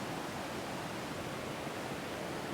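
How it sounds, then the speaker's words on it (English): Steady, dense rushing of river rapids in Khao Sok National Park, Thailand, fills the whole stretch, a broad unbroken roar of fast water tumbling over rocks, loud and continuous with no voices. "Thought I heard the waterfall. It's just some rapids over here."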